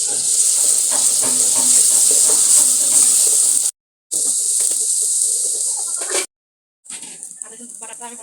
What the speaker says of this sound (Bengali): আদা রসুন বাটাটা আমি ভালোভাবে একটু কষাইছি।